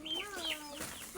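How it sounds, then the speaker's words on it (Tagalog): Chickens clucking briefly up close, a couple of short rising and falling calls from backyard fowl. "Ang daming mga chicken"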